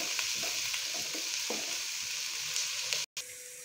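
Garlic ginger paste frying in a pan over a medium flame makes a steady, soft sizzle with faint stirring scrapes, and it cuts out briefly near the end.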